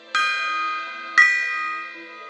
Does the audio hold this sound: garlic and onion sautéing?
no